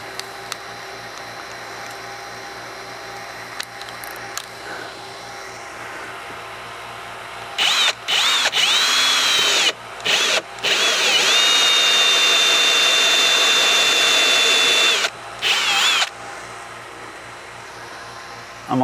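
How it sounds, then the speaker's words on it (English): A power drill bores a hole into a kayak hull in several loud, whining bursts that start and stop, with quieter ambient noise before the drilling begins. "Right there is where I'm gonna drill the hole."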